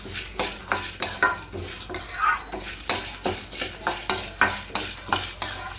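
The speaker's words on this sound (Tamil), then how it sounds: "இதையும் வந்து நம்ம நல்லா ப்ரௌன் கலர் ஆகிற வரைக்கும் நல்லா வறுத்து எடுத்துருவோம்." Chana dal dry-roasts in a pan under constant stirring. Close, rhythmic scraping and rattling strokes repeat over a soft sizzle, with no talking.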